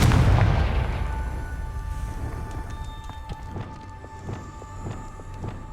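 A Confringo blasting spell cast in Hogwarts Legacy bursts with a loud, deep boom at the start, then fades into a rumbling tail with a few faint clicks and taps.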